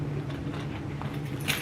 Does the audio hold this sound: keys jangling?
yes